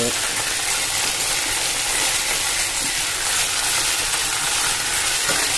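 Garlic and adamant creeper sauté in hot sesame oil for a pickle, a steady broadband sizzle and hiss running unbroken at close range with faint stirring underneath.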